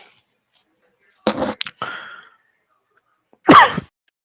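A few close, harsh coughs and throat-clearing bursts, separated by short silences, with a final loud cough.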